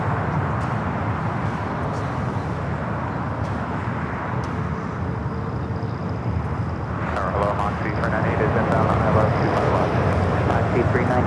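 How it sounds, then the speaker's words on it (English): A China Southern Cargo Boeing 777 freighter takes off from runway 25 at LAX, giving a steady, loud broadband roar that swells slightly toward the end, with faint voices underneath. "we do have a China Southern Cargo 777 freighter going to be taking off here on the 25s"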